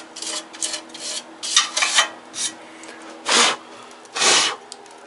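Paint being chipped and scraped off a welded bicycle rear rack: a series of short rasping strokes, a few quick ones then two longer, louder scrapes, close and alone.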